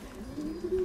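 Pigeons coo softly and close by, a low throaty murmur that rises into a slightly louder rolling call toward the end.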